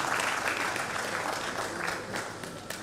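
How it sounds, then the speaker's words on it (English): An audience at a conference applauds steadily as a keynote speaker comes to the podium, dense even clapping close and continuous for a few seconds with little talk. "Please let's applaud him as he's coming."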